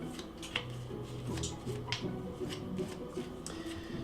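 Board game cards being shuffled by hand for a mice-and-rats adventure game, giving a steady run of soft riffling, rubbing and snapping card sounds up close, with no talking.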